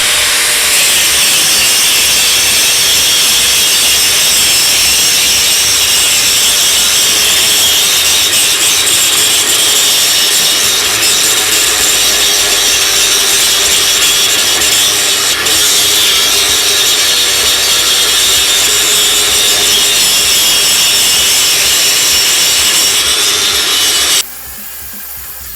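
A Bosch GWS17-125 1700W five-inch corded angle grinder, set to maximum RPM, grinds steel with a loud, continuous, harsh abrasive roar that holds steady before cutting off near the end.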